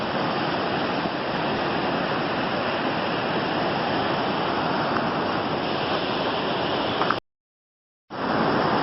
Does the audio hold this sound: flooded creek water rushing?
yes